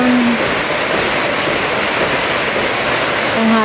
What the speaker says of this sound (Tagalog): biglang umulan, mga magwa 1 o'clock.